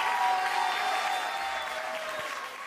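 Audience clapping at a Mangalagaur dance gathering, a dense steady burst of applause from a crowd that slowly tapers off.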